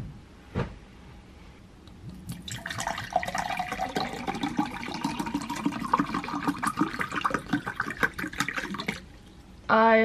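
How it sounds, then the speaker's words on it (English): Water runs from a shower, starting after a brief knock and building into a steady, close splashing stream that stops abruptly near the end. "I'm gonna have a shower."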